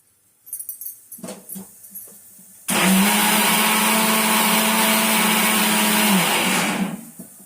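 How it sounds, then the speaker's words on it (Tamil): A kitchen mixer grinder whirs loudly and steadily for several seconds, grinding cumin and other ingredients for Athikai kootu, after a few soft clinks and handling knocks. "மிக்சியில் போய் இதை அரைச்சிட்டு வந்துட்டு தாளிச்சிடலாம்"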